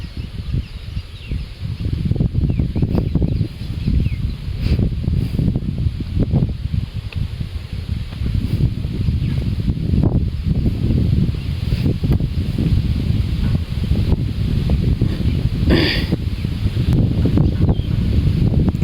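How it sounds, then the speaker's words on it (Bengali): Strong, steady wind blows by a riverbank during a fishing outing, a continuous rushing roar with gusty swells and rustling throughout, no voices. "আজকে অনেক বাতাস"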